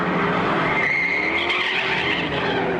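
An electric drag racing car launches hard at a drag strip at night, a loud continuous tire screech and whine holding steady and close for the whole stretch.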